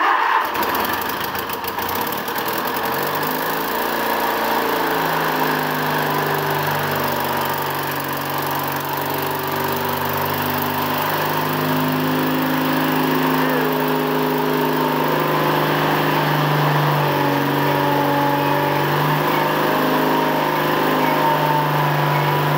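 A Ford LGT 17H lawn tractor's small engine drones steadily and loudly throughout, a rough mower-like rumble with a slight rattle and no pauses or talk.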